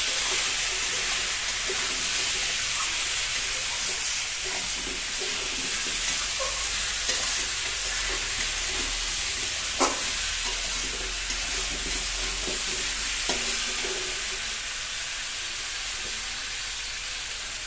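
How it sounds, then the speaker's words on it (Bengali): Potato and pumpkin pieces fry in a pan, giving a steady, close sizzle and hiss that runs throughout, broken by occasional soft stirring clicks and small pops. "তাহলে হতে থাকবে এখানে ভাজাটা, মানে আলু আর কুমড়ো ভাজাটা"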